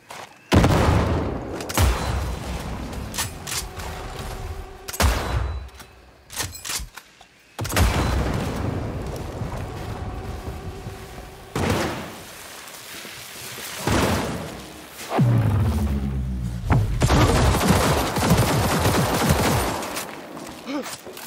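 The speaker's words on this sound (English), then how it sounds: "All units report. Opening fire." Cyberpunk 2077 gunfight with repeated loud bursts of gunfire and booming impacts, broken by short lulls, with voices shouting and talking amid the shooting throughout.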